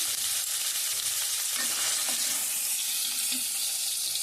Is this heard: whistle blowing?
no